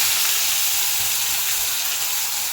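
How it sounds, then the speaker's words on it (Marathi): Cumin and mustard seeds sizzle in hot oil, a dense, even hiss close by that holds steady without pauses or speech. "तेल झालं गरम आता जिरे मोहरी टाकली"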